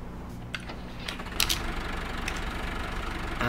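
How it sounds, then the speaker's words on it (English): A new tractor idles in Farming Simulator 19, a low, steady engine rumble with a few light clicks and taps over it, no talk. "We have here our lovely, lovely new tractor."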